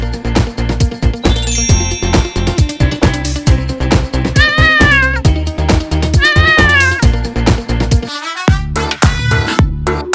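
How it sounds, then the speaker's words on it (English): Two drawn-out cat meows sound over a loud, bouncy toy-like tune with a steady thumping beat. "The cat goes, meow! Meow!"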